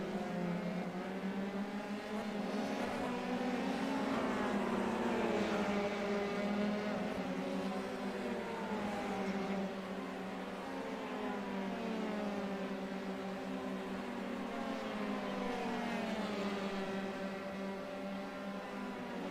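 Formula 3 race car engines in a racing video game, a steady layered drone of several cars running close together, pitch bending up and down through gear changes, loud and continuous with no talk.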